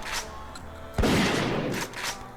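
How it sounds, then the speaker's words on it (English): A pump-action shotgun in Fallout 4 fires one loud close blast that decays into a rumble, with sharper mechanical clacks of pumping before and after it. "So what we have right now is a standard pump action shotgun"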